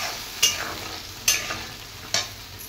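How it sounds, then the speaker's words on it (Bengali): Spice paste for a prawn curry being stirred and fried in a pan, with three sharp scraping stir strokes over a soft, steady sizzle, close and fairly quiet. "এবার খুব ভালো করে মশলাটাকে কষিয়ে নেব"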